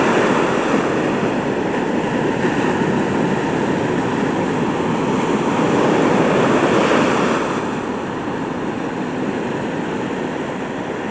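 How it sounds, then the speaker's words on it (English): Big ocean waves break in a loud, continuous roar of surf that swells and then eases slightly, with wind buffeting the microphone and no voices. "Pretty big waves."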